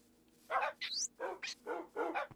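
Several sharp dog barks from Minecraft, about five short yelps in irregular succession with a rising whine among them, fairly close and clear over a quiet background.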